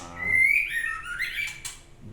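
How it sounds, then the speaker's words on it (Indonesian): White-rumped shama (murai batu) birds singing close by, a clear run of bright whistled phrases and chirps rising and falling for about two seconds, with no talk. "burung-burung atau ternakan-ternakan murai yang ada di rumah satwa ya"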